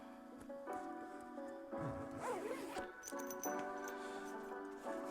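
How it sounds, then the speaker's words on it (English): A zipper runs along a fully packed weekend duffel bag, closing it in several drawn-out pulls with short pauses between, close and moderately loud against quiet background rustle. "And now for the final zip."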